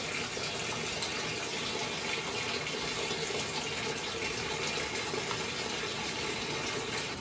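Hot water pours steadily from a household tap, a continuous even hiss and splash with no pauses, close and moderately loud throughout.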